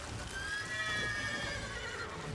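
A horse in The Witcher 3 video game gives a faint, drawn-out whinny over a steady low game-ambience bed, with soft hoof clip-clops underneath and no talking.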